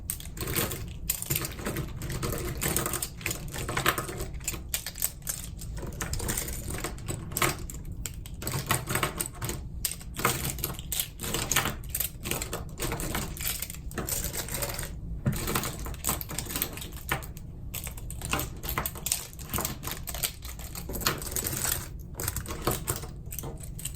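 Pens drop one after another into a Milloo Estia pen case, making a dense, continuous clicking and clattering close by that keeps an even pace the whole time, with no speech.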